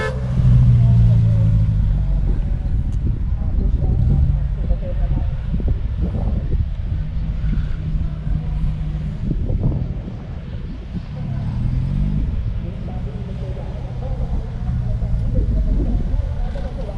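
Car driving on a road trip in a Sierra, a steady low engine and road rumble with wind noise throughout, while people talk over it.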